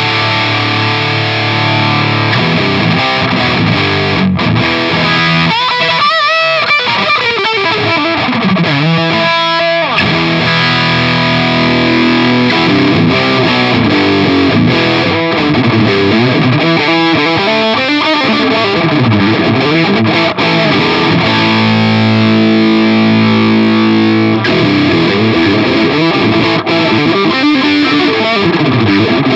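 Electric guitar played through a T-Rex Engineering Vulture distortion pedal with its Low and Fat boost pushed higher, a loud, thick, saturated tone of sustained chords and riffs running continuously without talk.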